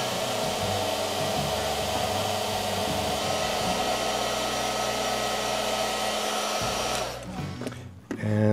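A heat gun blows steadily and loudly while shrinking heat shrink tubing over a 7-pin winch switch connection, a continuous airy whoosh with motor hum that cuts off near the end, leaving quieter background.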